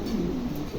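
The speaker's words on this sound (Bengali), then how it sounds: "চমৎকার 2 জোড়া কবুতর" A pair of pigeons at a wholesale pigeon market coos in a low, rolling murmur, close and steady for under a second.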